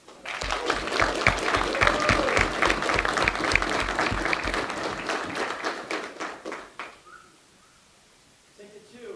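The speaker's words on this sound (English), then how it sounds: "Please give a round of applause for Ticket" Audience applause at a Florida Atlantic student government debate: loud, steady clapping from a crowd that carries for several seconds, then thins out and fades to near silence, with a few scattered claps at the very end.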